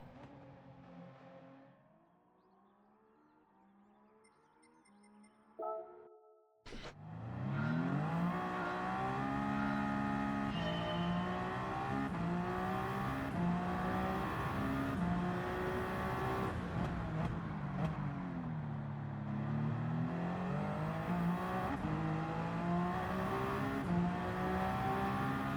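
An LMP2 race car engine in Gran Turismo 7 at the Bathurst 12 Hour track starts quietly, then roars up close and loud with rising and falling revs and repeated gear-shift dips.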